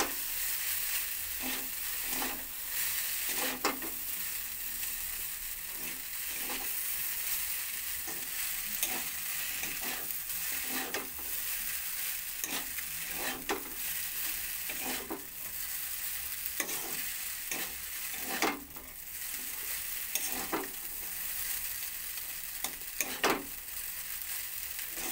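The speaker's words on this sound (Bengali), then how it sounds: "চাউমিনটা আমি তাহলে করে মিশিয়ে নেব।" Chowmein with fried potatoes and carrots is stirred in a hot pan: constant frying sizzle broken by regular scraping and knocking of the spatula against the pan, close and clear, no voices.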